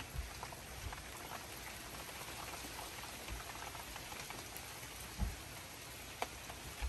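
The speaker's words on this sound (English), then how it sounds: "umuulan na." Rain falling steadily outdoors at the start of fall, a constant hissing wash of drops with a few louder splashes and thumps now and then, no voices.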